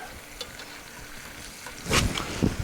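Italian sausage and peppers browning in a pan, a soft steady sizzle that swells near the end with a louder burst of spattering and a scrape as the pieces are turned.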